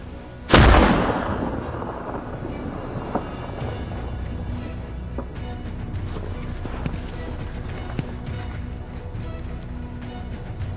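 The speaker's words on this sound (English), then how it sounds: "After a series of sharp shots, several giant boars lost their chance to escape." A gunshot goes off loudly during a winter wild boar hunt, followed by a long fading rumble, with faint further cracks and rustling outdoor noise afterward.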